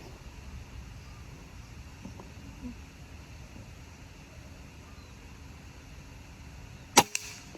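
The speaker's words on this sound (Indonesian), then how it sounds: "Tembakan pertama ya." A single sharp crack of a Combat PCP air rifle with a Yumaja barrel near the end, after a long stretch of quiet outdoor hiss.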